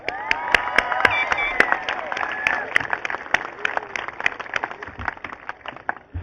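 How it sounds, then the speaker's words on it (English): Graduation audience at the Woonsocket High School ceremony applauding across a large room, a steady wash of many hands with sharp individual claps standing out, and voices murmuring and talking underneath. "I ask you to applaud the administrators and other staff at the Woonsocket High School."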